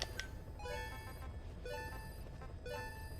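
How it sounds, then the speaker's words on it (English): A mobile phone ringtone plays, a repeating melodic pattern of tones with steady rhythm over a noisy background, moderately loud and with no talking. "Sorry guys, that's my mobile phone."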